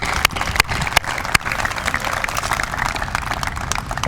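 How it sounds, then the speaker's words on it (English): A crowd applauds for an announcer at a baseball team's news event, with steady clapping broken by a few sharp, close hand claps near the start, then fading into a softer continuous patter. "Round of applause for John Sterling."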